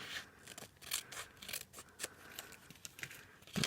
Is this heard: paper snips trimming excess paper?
yes